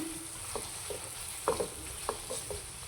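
Chopped ivy gourd is stirred with salt and turmeric in a pan, making a soft, quiet sizzle with a handful of brief utensil scrapes and taps spaced irregularly, close by with no talking.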